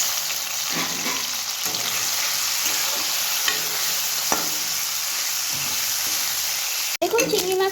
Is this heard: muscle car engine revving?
no